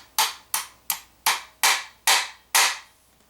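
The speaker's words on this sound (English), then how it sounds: "Light tap with a hammer" Seven crisp hammer taps on a small pin being seated in a Remington 870 or 1187 shotgun, evenly spaced about half a second apart, close and clear with no talking.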